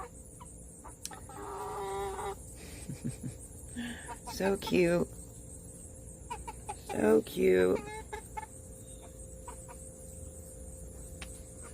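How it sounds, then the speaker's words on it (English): Young backyard chickens clucking and trilling up close, several short rising calls in bursts with quiet gaps between, while a person softly speaks over them. "These are sounding like chickens now."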